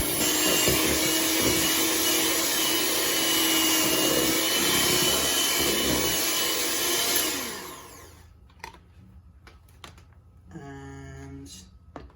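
An electric mixer whirs loudly and steadily through Victoria sandwich cake batter, then cuts off, leaving quieter clinks and taps of bowl and utensils.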